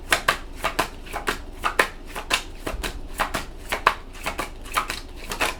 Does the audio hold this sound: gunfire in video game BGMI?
no